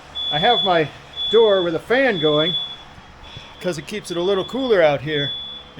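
Several household smoke alarms sound a high, steady electronic tone continuously in the background, set off by smoke from garage rust repair on a Jeep Cherokee, while someone talks loudly over it nearby.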